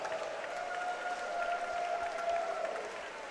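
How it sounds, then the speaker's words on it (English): Crowd applause and cheering fill an arena at a professional mixed martial arts event in Belleville, Ontario, a continuous, fairly distant roar of clapping with a sustained tone running underneath. "please put a big round of applause together for both of the fighters in the center of the cage"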